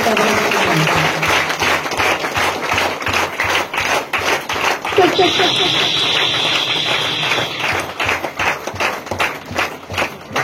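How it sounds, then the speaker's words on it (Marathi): A crowd at a religious prayer gathering claps loudly in a brisk, rhythmic beat, many hands striking together in an even pulse that fills the room and continues throughout. "आपण सगळ्यांनी जोरदार टाळ्या देऊन देवाचे आभार मानायचे"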